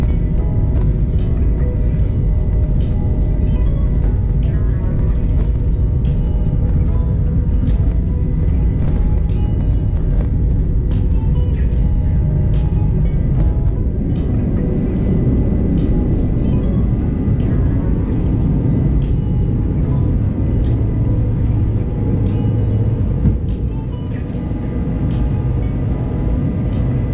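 Steady, loud roar and hum inside the cabin of a McDonnell Douglas MD-83 airliner in flight, a continuous engine drone with faint rattles and clicks and no talk.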